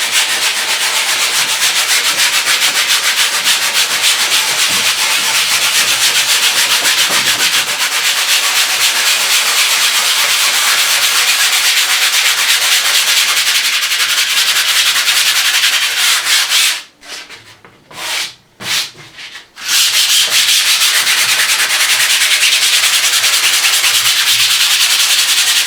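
Sandpaper rubbing steadily across a prepared painting canvas surface, a loud, continuous close-up scraping hiss that runs almost unbroken, with one brief stuttering gap of short strokes before the sanding resumes.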